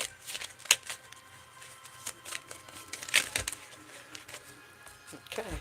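A deck of tarot cards being shuffled by hand, quiet papery riffles and soft flicks with a couple of sharper snaps, close and intermittent, with no speech.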